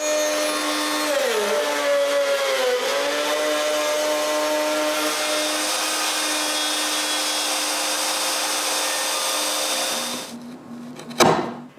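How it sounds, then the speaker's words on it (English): A router drones loudly and continuously while cutting a rabbet in a wooden frame, its pitch dipping briefly early on, before winding down and ending with a sharp clatter. "I cut a rabbet on the bottom of each frame for the actual bottom of the case"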